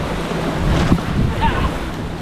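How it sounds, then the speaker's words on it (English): Rough open-ocean waves surge and crash against a sailboat at sea, a loud churning wash with heavy wind buffeting the microphone, rising to a fuller swell in the middle. "Oh, these waves are so aggressive."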